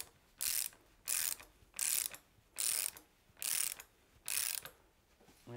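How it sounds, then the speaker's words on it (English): Torque wrench with a 32 mm socket tightening a Fox 36 fork top cap to 24 newton meters, seven evenly spaced close ratcheting clicks, each a short burst, alone without talk. "with your 32 mil chamfer socket on your torque wrench, set to 24 newton meters"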